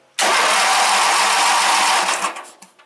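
Briggs engine on a Wheel Horse GT-1800 riding mower fires up abruptly and runs loud and steady, then its roar fades and sputters toward the end.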